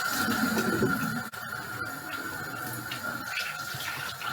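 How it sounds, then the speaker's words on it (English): Hands are washed under a running kitchen tap, a steady close hiss of flowing water with splashing, briefly broken once as the flow is interrupted, then continuing evenly. "wash my hands."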